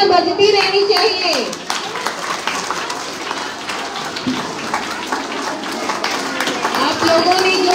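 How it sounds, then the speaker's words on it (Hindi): Audience clapping at a school award show for a creative talent hunt: loud, dense applause that runs the full length, with a voice talking over it at times. "तालियां बजती रहनी चाहिए।"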